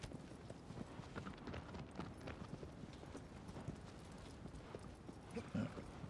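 Hooves of a horse clop continuously in the Shadow of the Colossus remake on PS4, a steady galloping patter at moderate distance over a low ambient bed, with a brief louder bump near the end.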